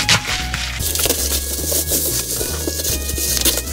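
Someone opens the hard case of an old 1980s Moon guitar bought at auction, with close, continuous wooden rubbing, scraping and crackling of the case and packing, no talking.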